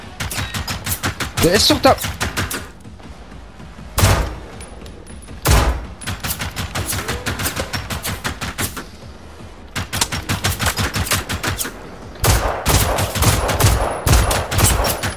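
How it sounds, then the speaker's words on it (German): Enemy gunfire in the video game Generation Zero crackles in repeated rapid bursts of automatic shots, loud and sustained across the clip, broken by a few brief pauses, while someone talks over it. "Die schießen da durch den Busch und ich treff die nicht?"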